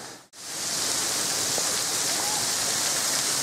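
Water rushes steadily through a rocky cave temple during the monsoon rainy season, a loud, continuous broadband roar that swells in after a brief silent gap and then holds evenly.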